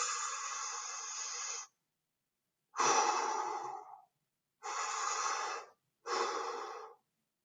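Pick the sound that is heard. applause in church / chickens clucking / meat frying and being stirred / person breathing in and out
person breathing in and out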